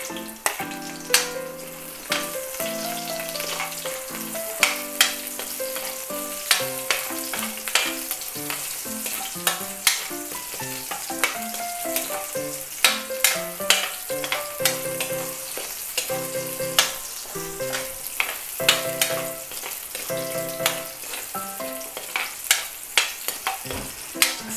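Garlic and white onions fry in a pan with a continuous bright sizzle, punctuated by frequent sharp stirring clacks of a utensil, all close and fairly loud.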